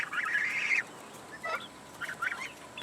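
A pair of Chinese geese in a homestead poultry yard with chickens and guinea fowl, giving a raspy honking call followed by several shorter squawks and clucks at moderate distance.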